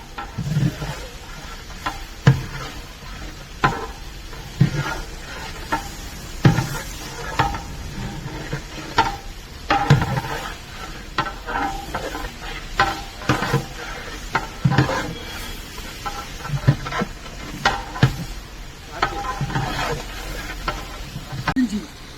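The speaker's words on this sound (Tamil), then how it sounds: "இப்போ எல்லாத்தையும் சேர்த்து ஃப்ரை பண்ணி அந்த மசாலா ஸ்ட்ரக்சர் எடுத்துன்னு வருவாங்க" Frying and stirring a coriander, mint and fenugreek leaf masala for a large batch of vegetable biryani, with soft sizzling under repeated scraping and clanking of a ladle against a big pot, irregular and fairly close.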